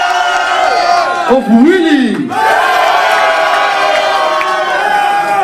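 A live crowd at a 2008 Last Man Standing producers battle cheers and shouts loudly for a contestant named Willy, with whoops and a rising swell of voices; a host's voice speaks over the noise.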